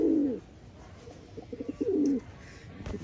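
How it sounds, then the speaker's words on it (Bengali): A young high-flying pigeon coos softly and close by: a low throaty burst at the start, a second coo near the end, and faint murmurs between, with no talking. "এই আমার একটা চট কবুতর,"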